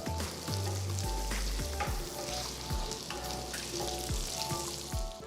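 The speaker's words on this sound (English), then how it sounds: "Next, add about 2 tablespoons of oil, 1 teaspoon of cumin seeds," Cumin seeds sizzle in about two tablespoons of hot oil for street-style pav bhaji, a steady close frying hiss with occasional stirring knocks and scrapes throughout, no voices.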